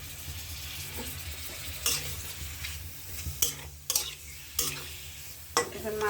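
Fish with onion and spices sizzles in hot oil, a quiet steady fry broken by several sharp scraping stirs of a utensil in the pan.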